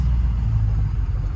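A truck engine idles while warming up before a dirt drag run, a steady low rumble held close and even throughout, no speech.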